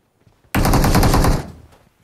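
An automatic weapon fires a single rapid burst of about a second in a battle royale video game, loud and close, cutting in sharply from near silence and then fading out.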